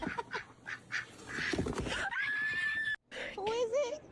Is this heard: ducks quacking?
yes